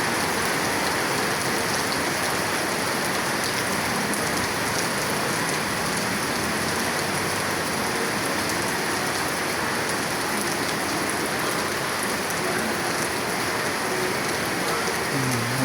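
Steady, dense rainfall patters continuously on surfaces, a constant hiss with no breaks, moderately loud and enveloping.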